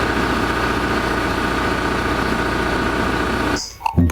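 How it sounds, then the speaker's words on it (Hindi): A truck engine idles steadily at mid distance, a continuous low rumble with vibration that holds evenly for several seconds before cutting off abruptly near the end. "ट्रक के इंजन की ही आ रही थी।"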